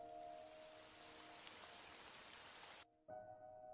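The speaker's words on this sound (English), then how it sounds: "I'm gonna have the rain sounds." Steady rain patters on a surface, a continuous dense hiss with a faint tone underneath, cutting out briefly near the end before resuming.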